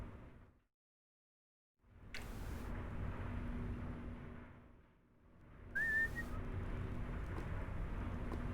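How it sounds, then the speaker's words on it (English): A person whistles a short, high tune, with a brief clear whistle rising above a steady, loud background rumble that drops out into near silence early on. "Sorry, I whistle a lot."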